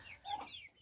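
Hens and roosters in a poultry yard: one brief, close cluck with a rising and falling pitch, alone and over quickly.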